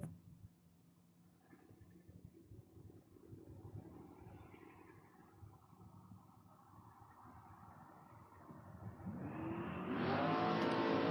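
Drag race cars, one of them a Camaro, rumble and build in revs at the line before a loud, roaring launch that swells sharply near the end, heard without any talking.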